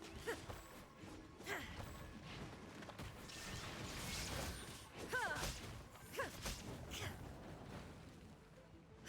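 A secret passage opening in Genshin Impact, grinding stone-like mechanical rumbling with creaks and a few thuds and chimes, fairly quiet and sustained over several seconds.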